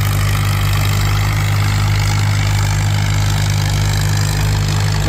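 An antique tractor's engine at a tractor pull runs loud and steady, a deep continuous rumble holding level throughout without pause, with no voices over it.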